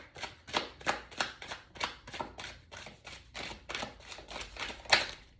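Tarot cards shuffled and drawn for a spread: a steady run of about a dozen crisp, papery riffles and snaps, close and quiet, with no talking.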